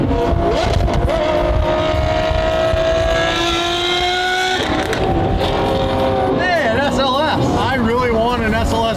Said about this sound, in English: But this car sounds good.